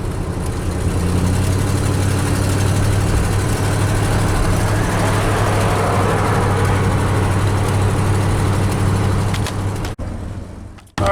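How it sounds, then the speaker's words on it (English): A Ford F-series pickup truck idles while warming up, a steady heavy low drone holding loud and even for about ten seconds before cutting off abruptly. "We'll let the engine warm up a little bit"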